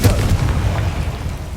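A Confringo blasting spell bursts in Hogwarts Legacy, giving a loud, heavy boom with a rumbling tail that fills the whole short moment, with no voices over it.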